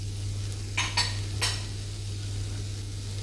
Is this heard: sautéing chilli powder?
yes